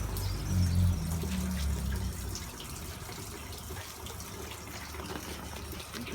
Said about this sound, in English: the flap opens and the blockage just flows on